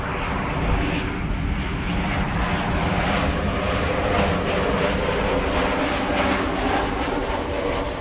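A KLM Boeing 737-700 airliner at Amsterdam Schiphol Airport gives a loud, steady jet engine roar with a broad rushing hiss that holds constant throughout, with no voices.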